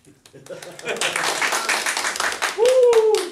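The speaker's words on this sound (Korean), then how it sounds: "우리 김혁균 PD한테 박수 좀 쳐주실래요?" An audience claps for a TV PD at a citizens' talk event in Incheon, a brief burst of scattered applause from a nearby crowd that swells and then fades as a voice starts speaking over the end.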